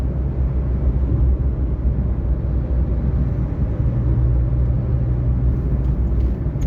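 Steady low rumble of a Renault Mégane driving on the road, heard from inside the car at a constant engine drone with no talk.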